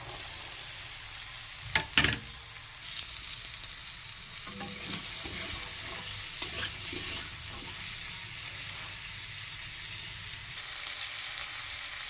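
Green peas, 100 grams of them, sizzle and fry in a pan as they are stirred, with a sharp scrape and clatter near the start and steady frying throughout, alone with no talk.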